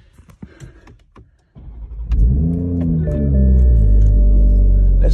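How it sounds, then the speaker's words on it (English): A car engine starts and settles into a loud, deep, rumbling exhaust idle that grows steadier and heavier, after a few faint clicks and handling noises. "This exhaust is pretty loud"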